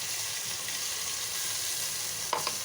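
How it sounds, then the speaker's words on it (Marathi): A paste of ground onion, coconut, garlic and ginger fries in a pan for chicken curry, giving a soft, steady sizzle with one brief clatter near the end. "आता हे बघा वाटण टाकायला लागले कांदा खोबरं लसूण अद्रक याची पेस्ट तयार केली"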